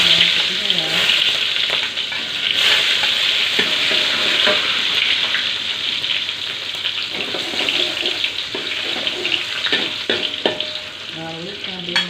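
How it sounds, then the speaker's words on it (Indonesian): Shallots and garlic frying in hot oil in a pan, a loud steady sizzle with occasional stirring scrapes and clatter running throughout. "setelah minyaknya panas, kita masukkan terlebih dahulu bawang merah dan bawang putihnya ya"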